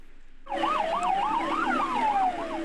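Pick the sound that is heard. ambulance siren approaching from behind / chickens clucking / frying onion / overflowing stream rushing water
ambulance siren approaching from behind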